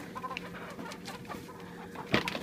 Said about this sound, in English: Best chickens in the west.